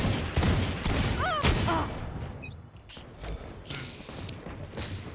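Gunfire in a Valorant match, with bursts of shots and thuds mixed with game effects and chirps, fairly busy but moderately quiet throughout.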